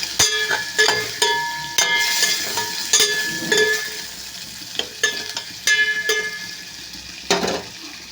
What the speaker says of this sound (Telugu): పసుపు వేసి ఫ్రై చేసుకోవడం వల్ల మంచి టేస్ట్ వస్తుంది